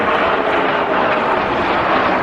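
A 1956 Hawker Hunter jet, built as an RAF Mark F4, roars past steadily and loudly while flying inverted at a seaside air show.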